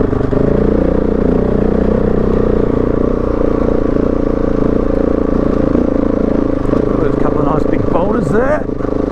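Husqvarna 701 Enduro motorcycle engine droning steadily and loud while riding over a rocky trail, with clattering over stones and a rider's voice briefly audible near the end.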